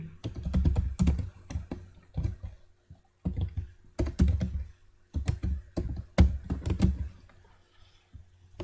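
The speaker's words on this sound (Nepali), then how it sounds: "म चाहिँ यहाँ कृष्ण भनेर चाहिँ नयाँ डाटा राख्छु" Bursts of rapid computer keyboard typing while entering data into Microsoft Access, close and clear, with short pauses between runs of clicking keys.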